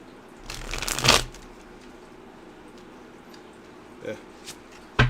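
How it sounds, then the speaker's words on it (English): A new tarot card deck is shuffled in two quick riffling bursts close to the mic, then a few softer card taps and snaps follow in a quiet room. "New deck, kind of hard to shuffle a little bit sometimes."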